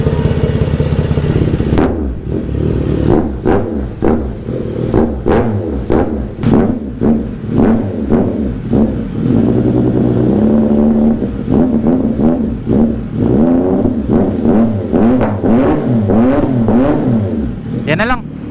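A CFMOTO 675NK motorcycle with its exhaust pipe removed is blipped repeatedly up close, giving loud, raw, rapid-fire revs with sharp throttle stabs that rise and fall, followed by a held, wavering rev near the end.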